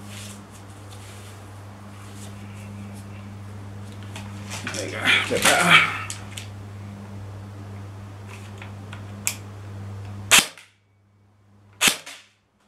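CYMA MP5 airsoft gun fired at a target: a cluster of sharp snaps, then two isolated crisp shots near the end, over a steady low electrical hum.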